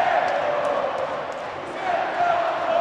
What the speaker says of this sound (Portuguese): Olha o que faz a torcida do Cruzeiro no gol do Fluminense